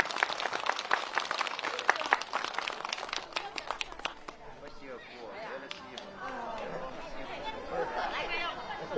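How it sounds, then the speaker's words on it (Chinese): An audience bursts into applause to welcome a speaker at a New Year charity visit event in Datong. Dense clapping fills the first four seconds, then fades into crowd chatter. "让我们共同响起全场第一次最具热情的掌声有请我们赵书记上台致辞掌声欢迎"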